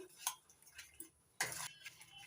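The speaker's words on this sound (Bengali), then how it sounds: "এবার মশলাটা ভালো করে মিশিয়ে নিচ্ছি" Spices are mixed into yogurt in a pan for a potato and cauliflower curry, giving a few faint, close spoon scrapes and clinks, with one brief louder scrape midway.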